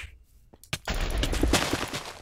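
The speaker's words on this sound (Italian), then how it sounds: "Cos'era questa esplosione gigante? Era eh, bomba antimateria." A huge antimatter bomb goes off in a Minecraft lucky block game, a sudden loud blast after a brief quiet that rolls on into a dense, crackling rumble of repeated bursts.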